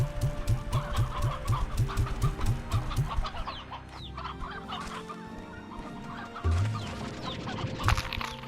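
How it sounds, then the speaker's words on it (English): Roosters and hens on a farm cluck in a steady rhythmic run up close, then the flock keeps up scattered clucks and calls with a louder burst near the end. "Too many roosters."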